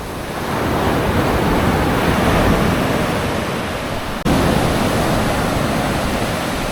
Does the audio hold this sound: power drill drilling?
no